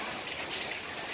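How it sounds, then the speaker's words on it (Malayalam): Heavy late-afternoon monsoon rain pours down steadily near a canal-side house, a dense, even wash of close patter with no talk over it. "ഭീകരമായ ഒരു മഴ ഇങ്ങനെ വന്നുകൊണ്ടിരിക്കുന്നുണ്ട്"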